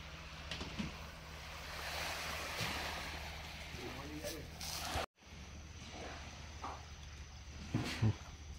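Waves wash onto the shore at Kuala Linggi beach on a calm morning, a soft, steady surf hiss with faint wind, fairly quiet, cut by a brief dropout midway.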